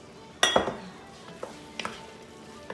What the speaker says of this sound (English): Now we're gonna go ahead and return the lamb back to the pot